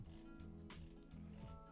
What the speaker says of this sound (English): It has a bi-directional 60-click bezel, which the action isn't too bad.